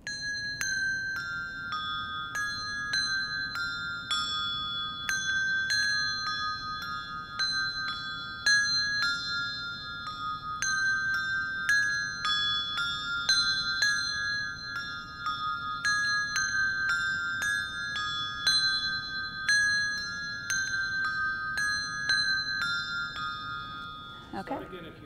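Church bells ring in change ringing, steady rounds of one bright peal after another, their order swapping as the ringing changes; a continuous, resonant metallic cascade.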